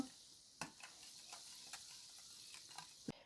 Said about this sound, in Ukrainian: Все розмішуємо гарненько.